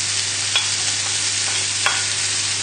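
Bacon lardons frying in about a teaspoon of oil in a pan, giving a steady hiss with a couple of brief utensil clinks and a low hum underneath, no talking.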